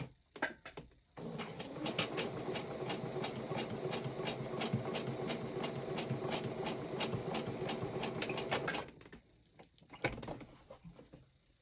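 A sewing machine stitches a seam with a small seam allowance, running steadily for about eight seconds with a fast, even ticking rhythm, close and fairly loud, then stopping, followed by a few quieter handling knocks.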